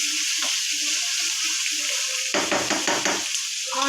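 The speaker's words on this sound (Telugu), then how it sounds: "ఆనియన్స్ అయితే ఇలా అయితే ఫ్రై చేసుకోవాలి" Onions and green chillies fry in oil on a stove, a steady hissing sizzle throughout, joined by a louder burst of stirring and scraping in the pan partway through; no one speaks.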